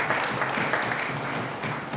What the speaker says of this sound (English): could we give all 11 of them a special round of applause?